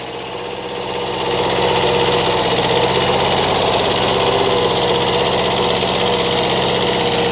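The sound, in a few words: Kubota tractor running with potato digger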